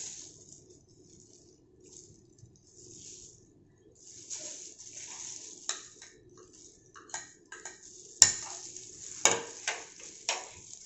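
French fries being tossed and stirred with pepper and salt in a bowl, heard as quiet scraping and rustling broken by several sharp clinks and rattles that grow louder toward the end.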